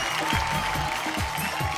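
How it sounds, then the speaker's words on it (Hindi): Steady studio audience applause on a TV comedy show fills the clip, a dense wash of clapping with faint low voices underneath. "आप ताली बजा सकते हैं, एंजॉय करें।"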